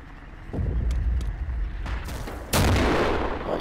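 Gunfire in the Darkest Hour game: a burst of shots near 0.5 seconds, then a much louder close boom at about 2.5 seconds, with rumbling battle noise running under it all.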